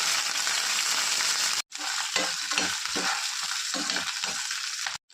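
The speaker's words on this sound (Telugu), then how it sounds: "కడాయి పెట్టుకొని కొంచెం ఆయిల్ వేసుకోవాలి ఆయిల్ హీట్ ఎక్కిన తర్వాత పచ్చడి కూడా వేసుకోవాలి" Ridge gourd chutney tipped into hot oil in a kadai sizzles loudly and steadily, broken by a brief silence, then resumes with rhythmic stirring scrapes and crackle; no one talks.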